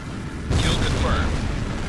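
A rebel warehouse blows up in Tom Clancy's HAWX, a single deep boom from a hard onset that rolls into a sustained rumble, with radio chatter and aircraft noise layered over it.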